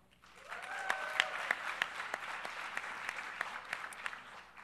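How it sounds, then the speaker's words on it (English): A crowd at a leadership summit breaks into steady applause that swells quickly and holds, with a few brighter claps and whistles standing out. "indicate with your round of applause if you are a fan of"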